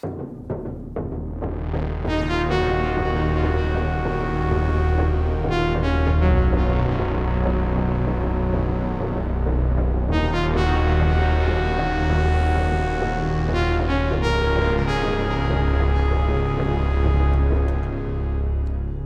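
Dave Smith Tetra and Yamaha CS-50 synthesizers play a dense, throbbing low pulse beneath swelling sustained pads and a rising lead, continuous, loud and wide without any talking.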